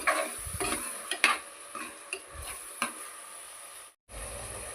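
Green peas and mashed potato stirred and fried in a pan for a potato puttu side dish, giving soft scraping stirs and light sizzling in irregular bursts, close by, with a brief silent gap near the end.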